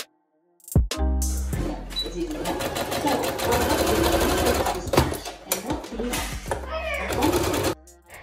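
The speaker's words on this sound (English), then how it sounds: "now I'm over at my sewing machine and I'm going to sew all of the seams" A sewing machine whirs in quick bursts up close, sewing lace wedding dress skirt seams, its needle chattering rapidly, stopping briefly between runs, while someone talks over it.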